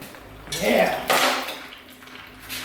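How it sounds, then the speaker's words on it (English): Metal chunks clatter out of a truck engine's oil pan during a teardown, with two short rattling spills of debris onto a hard surface in a quiet shop setting. "Hear all the chunks falling out of it."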